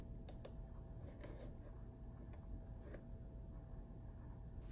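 Computer keyboard typing, heard as a few sparse, quiet key clicks over a constant low background hum, with no voices.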